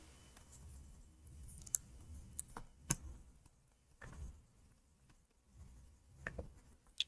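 A hand writes out an electrolysis formula with a pen or marker, giving soft irregular ticks and scratchy strokes, faint and close, with no speech.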